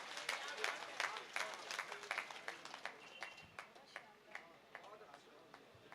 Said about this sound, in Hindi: तालियां बजाइए उन वीरों के लिए।